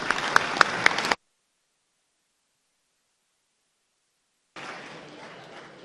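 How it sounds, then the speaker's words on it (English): Legislators in the Missouri House chamber give a burst of applause that is cut off after about a second. Quieter, noisy room hiss returns later, with no voices. "please give him a warm round of applause"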